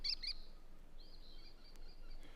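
A long-eared owl makes thin, high cat-like mewing calls, a couple of quick notes followed by a longer drawn-out wail, faint and distant outdoors with no voices.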